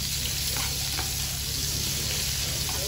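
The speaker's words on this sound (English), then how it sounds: "because of the pork fat on each side, it sears really fast" Pork with its fat on each side sears in a hot pan alongside onion at a Spanish tapas cooking class, giving a steady, dense sizzle and crackle that holds close and even throughout.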